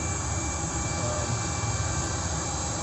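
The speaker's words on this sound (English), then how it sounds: "This is actually a really cool one, the under the plane one, because you can hear the engines. It's really cool when you're landing." Airliner jet engines heard from beneath the aircraft during landing, a loud, continuous roar with a steady whine on top, unbroken throughout.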